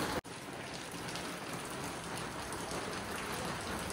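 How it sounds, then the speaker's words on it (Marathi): Heavy rain falls in Pune, a dense, steady hiss with scattered drops that holds evenly throughout after a brief dip at the start, with no voices. "खूप पाऊस पडत आहे इथं पुण्यामध्ये, त्यामुळे खूप पावसाचा आवाज येत आहे"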